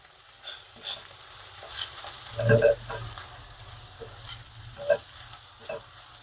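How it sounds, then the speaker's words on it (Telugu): Chilli powder sizzles in a hot tempering in a pan for a drumstick and tomato curry: a faint, quiet frying hiss broken by a few brief spoon scrapes. "తాలింపు చక్కగా వేగిపోయింది"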